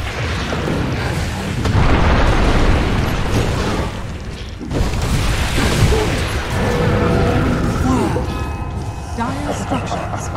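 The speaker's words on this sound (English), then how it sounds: "Sound like Dire's top tower is under attack." Towers come under attack in Dota 2 with a run of heavy booms and crashing impacts. The bursts swell and fade over a dense, loud battle din, with sharper hits toward the end.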